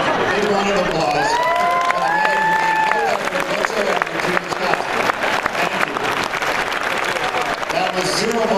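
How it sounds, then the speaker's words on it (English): Loud, sustained audience applause and cheering fill a crowded convention hall, dense clapping continuing steadily throughout with voices mixed in and a few shouts rising above the crowd. "Big round of applause."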